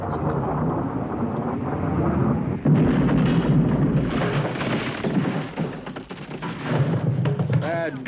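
Naval cannon gunfire in a 1973 period film, heavy booming rumbles rolling out at a distance beneath a voice speaking, with a louder blast partway through.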